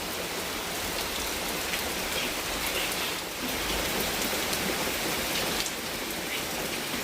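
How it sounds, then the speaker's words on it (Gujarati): Heavy monsoon rain pours down steadily, a dense and loud hiss of drops hitting surfaces with no break throughout, and no voices. "આખા ચોમાસામાં આજ પહેલી વાર આટલો ફૂલ વરસાદ આવી રહ્યો છે"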